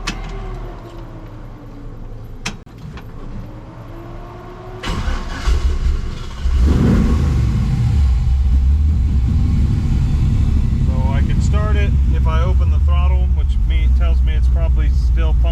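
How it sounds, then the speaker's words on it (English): A 1965 Impala SS engine struggles to start after sitting hot, with cranking followed by a rough catch into a loud, steady low rumble up close, while a person talks over it. "And it still doesn't want to start."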